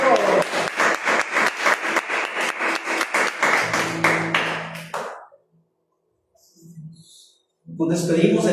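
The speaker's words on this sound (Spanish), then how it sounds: "Den un fuerte aplauso a Jesús" A church congregation claps in a rhythmic, evenly spaced beat, loud and close, under a voice, then falls silent before a voice resumes at the end.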